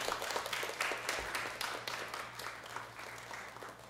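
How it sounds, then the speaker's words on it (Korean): An audience claps at a church Bible-reading gathering, the applause starting fairly strong and gradually thinning and softening as it continues. "우리 힘찬 박수 부탁드리겠습니다"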